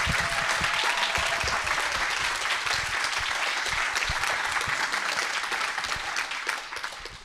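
Sustained applause from a member meeting audience, many hands clapping evenly and fairly loudly for the full stretch, easing slightly at the very end.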